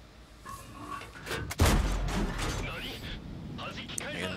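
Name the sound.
STB-1 tank firing at IS-7, World of Tanks video game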